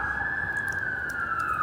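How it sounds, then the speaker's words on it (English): An emergency vehicle siren wails steadily outside, a sustained tone slowly gliding downward as it passes, moderately loud and heard without talk. "I'm just gonna wait for the siren."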